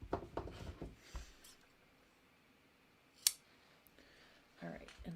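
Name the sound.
scissors cutting clear vinyl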